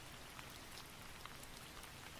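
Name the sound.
heavy rain falling, audiobook sound effect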